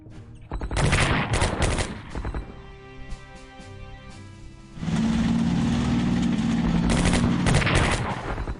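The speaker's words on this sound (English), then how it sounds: "Defensive artillery!" Artillery and gunfire in the war strategy game Strategic Command boom and crackle in loud bursts, with a quieter rumbling stretch in the middle before another heavy barrage.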